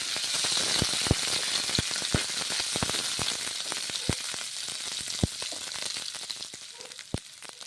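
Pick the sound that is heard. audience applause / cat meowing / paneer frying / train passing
paneer frying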